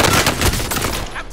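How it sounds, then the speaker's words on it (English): Rapid gunfire bursts crackle in a Call of Duty: Modern Warfare match, loud and close, with dense overlapping shots across a brief moment and faint voices beneath. "I'm taking fire."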